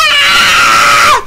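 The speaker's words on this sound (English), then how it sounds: "That's my panic scream!" A player lets out a loud, sustained panic scream during a Team Fortress 2 match, one long high-pitched wail that cuts off abruptly at the end.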